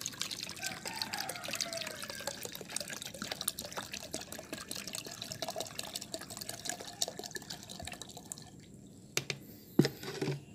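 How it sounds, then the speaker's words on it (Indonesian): One liter of water poured into a container to mix a fungicide solution for red chili seedlings in polybags, a close, continuous splashing trickle that stops near the end, followed by a few brief knocks. "Saya tuangkan dulu air 1 liternya."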